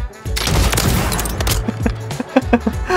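Sniper rifle shots in Call of Duty: Modern Warfare III, a burst of loud sharp gunfire followed by a run of quicker close cracks and booms.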